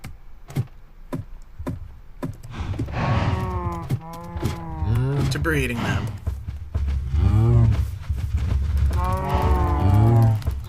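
Cows in the Minecraft video game moo repeatedly in long low lowing calls, several overlapping at close range, with sharp clicking hits at the start and a brief spoken remark.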